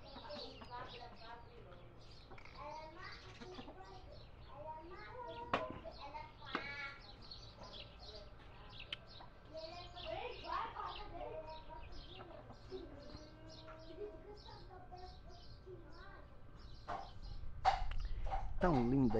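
Hens and young chicks clucking, cooing and peeping close by in irregular, overlapping calls, with people talking through much of it and a louder burst near the end.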